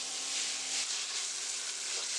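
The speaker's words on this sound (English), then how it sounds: "we're going to allow the juices from the beef to spill and the fat to render." Ground beef browns in a pan for Puerto Rican pastelón, a soft, steady sizzle and hiss of rendering fat running evenly throughout, fairly quiet and close.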